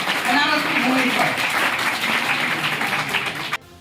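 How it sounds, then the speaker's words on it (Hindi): An audience in Varanasi applauds to welcome a cabinet minister, with dense, steady clapping running throughout and a voice speaking over it, then cutting off abruptly near the end. "हम तालियों के साथ बाबा विश्वनाथ की नगरी में माननीय जितिन प्रसाद जी का हार्दिक इस्तकबाल करते हैं।"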